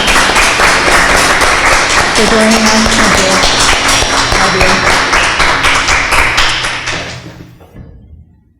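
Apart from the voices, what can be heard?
audience applause for Luann and Cooper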